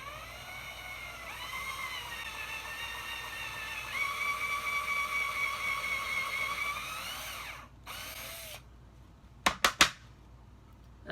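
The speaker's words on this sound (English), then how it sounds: "that's exactly where I'm gonna put the drill bit at and make this hole" A power drill bores a hole straight down, its motor whining steadily and rising in pitch before cutting off, followed by a few short bursts of the trigger.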